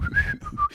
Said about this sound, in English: The cameraman's literally whistling like a cartoon character.